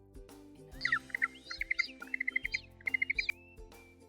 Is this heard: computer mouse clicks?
no